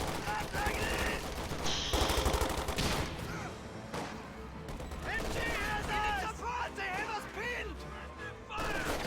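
Thompson submachine gun bursts rattle against a Grenadier squad in a World War II strategy game, rapid overlapping automatic fire mixed with explosions, shouts and battle noise, with a voice talking over it.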